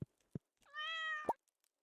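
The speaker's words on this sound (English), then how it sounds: "Let's pet the kitty." A single cartoonish cat meow from a petted kitty in the farming game Stardew Valley, a clear rising tonal call lasting about half a second, framed by soft game clicks and ending in a short pop.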